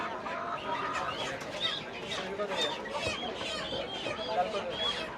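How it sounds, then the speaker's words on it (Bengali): Many layer chickens cluck and squawk steadily at close range, a busy flock sound at a market, with people talking faintly underneath. "লেয়ার মুরগি দেখতে পাচ্ছেন"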